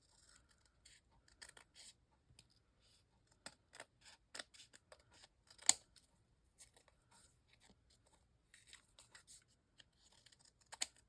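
Scissors snip through fabric scraps in a quiet indoor sewing space, with short crisp cuts arriving in irregular bursts and one sharper, louder snip partway through, and no talking.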